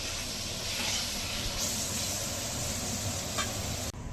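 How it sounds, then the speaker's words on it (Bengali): Potatoes and onion fry in a pan for a Bengali dish, giving a loud, continuous sizzling hiss that holds steady throughout, with a brief dip just before the end. "আলু ভেজে নেব পেঁয়াজের সাথে"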